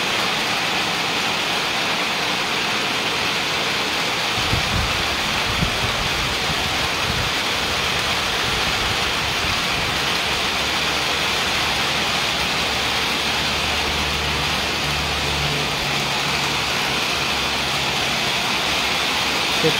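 Heavy rain falling outdoors, a steady, even hiss that fills the whole span without letting up, with faint low rumbles from something passing in the background.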